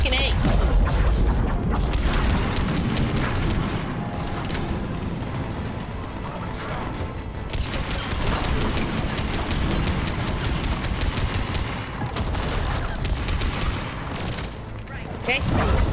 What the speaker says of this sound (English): Oh god, who's shooting me?